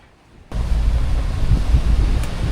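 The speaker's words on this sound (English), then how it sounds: "The waves and the current was really pushing me around." Sea waves and wind buffeting a boat in rough water, a loud, low rushing roar with wind noise on the microphone that starts abruptly and continues steadily, with no talk.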